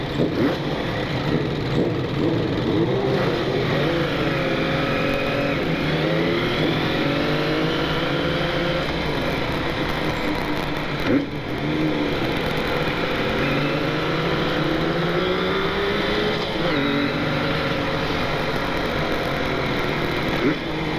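A Kawasaki KH250 two-stroke motorcycle accelerates hard, its loud, buzzing engine note rising steadily through the gears in a continuous, close-up roar with wind noise.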